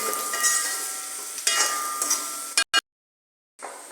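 Bitter gourd pickle with asafoetida sizzles and scrapes as it is stirred in a hot pan, a steady frying hiss broken by short stirring bursts, then a sudden drop into silence before the sizzle returns faintly.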